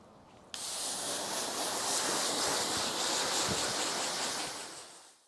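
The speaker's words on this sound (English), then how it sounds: "it's important that I rinse this off right now because it has started to dry right here" A water hose rinses foam wash off a car, a sudden, loud, steady rushing spray that starts abruptly and runs continuously before tapering off at the end.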